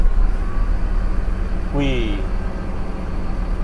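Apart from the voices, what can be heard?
Mercedes-Benz 1623 bus engine starting, heard from driver's seat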